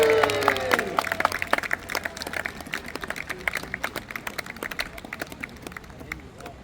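A crowd at an outdoor naval battle show in Peasholm Park claps and cheers, dense scattered applause that starts loud and gradually thins and fades over several seconds.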